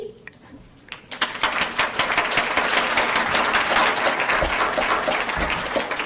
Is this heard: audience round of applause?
yes